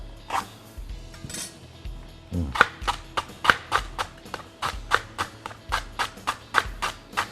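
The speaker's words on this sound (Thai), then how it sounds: "ก็ซอยบางเท่าที่อยากจะบางได้นะครับ" A knife chops rhythmically on a cutting board, a steady series of crisp, close taps slicing lemongrass thinly, with no talking.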